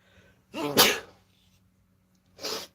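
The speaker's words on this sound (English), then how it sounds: "I'm about to sneeze." A single close, loud sneeze bursts out in a quiet room, followed after a pause by a shorter second burst, like a sniff or a smaller sneeze.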